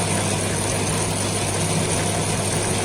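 Rollers of a 40 cm water-based gluing machine with an inverter drive turning, giving a loud, dense, unbroken mechanical roar with a steady low hum underneath, continuous throughout.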